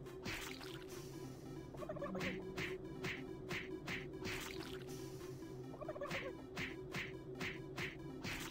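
Turkeys gobble repeatedly in the game Doom 3, rapid rattling bursts in two clusters over a steady low mechanical hum, fairly quiet and close.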